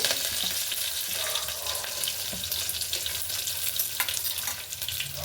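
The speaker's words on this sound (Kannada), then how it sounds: "ಒಗ್ಗರಣೆಗೆ ಇಕ್ಕಿದ್ದೀನಿ, ಸಾಸಿವೆ ಹಾಕ್ಕೊತಾ ಇದ್ದೀನಿ" Mustard seeds, curry leaves and crushed garlic crackle and sizzle in hot tempering oil, a dense, close, continuous frying hiss with scattered sharp pops.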